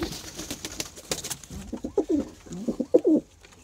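Large show pigeons, a prized breed kept in Lahore, coo in repeated low throaty phrases, close and clear, with a few soft bursts of rustling and background noise at the start.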